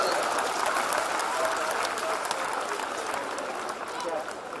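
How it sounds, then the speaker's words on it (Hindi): A Hindi-speaking audience at a live stage performance breaks into a full, even round of applause, many hands clapping steadily and loudly for the whole stretch with no pause. "आप तो खाली तालियां बजा दो तो ज्यादा अच्छा लगेगा"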